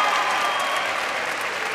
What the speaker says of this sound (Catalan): Aneu aplaudint, que són els últims